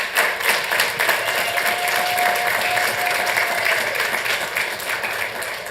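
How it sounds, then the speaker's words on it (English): Steady applause from a council meeting audience honoring a neighborhood hero, dense continuous clapping from a sizable crowd at even loudness throughout. "Let's give him a big round of applause."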